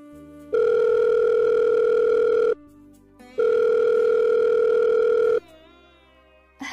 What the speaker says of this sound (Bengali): তাই সেদিন রাত্রে হৃদয় লিমাকে ফোন করলো